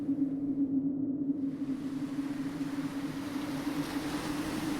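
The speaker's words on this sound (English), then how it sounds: "its bow cutting through the water with precision" Ocean water rushing against a ship's hull in a storm, a steady heavy wash with a constant low engine-like drone underneath, continuous and close with no voices.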